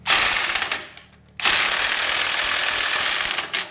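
A cheap Harbor Freight impact wrench runs in two loud, close bursts with a brief pause between, a harsh buzzing mechanical whir used while working an ATV lift.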